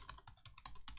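Keystrokes tapping on a computer keyboard at a terminal, a quick run of close, faint clicks in an even rhythm.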